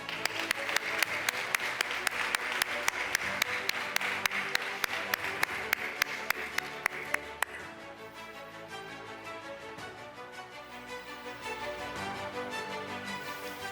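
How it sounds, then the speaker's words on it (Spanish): A crowd at a workers' gala applauds with steady clapping, a sharp regular beat cutting through, then the clapping softens as music-like tones continue underneath. "Un aplauso."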